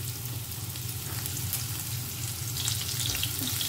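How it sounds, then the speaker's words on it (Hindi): Onion and curry leaves fry in a pan with two spoons of oil, giving a steady, close sizzle that holds at a constant level throughout, with a few brighter crackles near the end and no talking. "सो कांदो आनी ताका जस्ट 1-2 मिनटांनी फ्राय करून घेवया"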